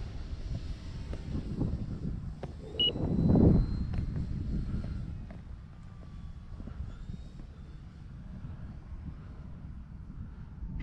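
An E-flite Timber Turbo RC airplane flies overhead, its electric motor a faint whine that swells briefly as it passes close. Steady wind noise buffets the microphone throughout.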